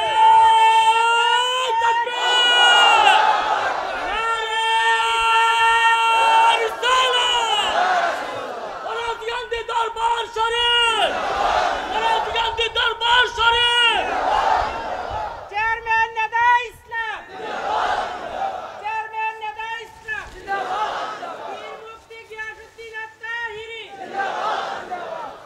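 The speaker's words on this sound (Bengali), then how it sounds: "এখন একটা স্লোগান দেন" A large crowd at a religious gathering chants a slogan in loud, repeated unison bursts of shouting, with pauses between phrases and a lead voice among the massed voices.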